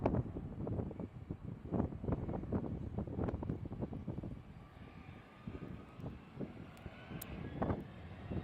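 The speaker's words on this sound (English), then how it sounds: "Yeah, it's a wind." Gusty wind buffets the microphone outdoors at an airport, rumbling in uneven low bursts throughout with a faint distant aircraft hum underneath.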